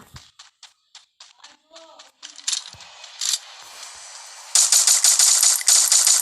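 Gunfire in the video game Free Fire: a string of separate clicking shots builds into louder bursts, then ends in sustained rapid automatic fire, all sharp and close.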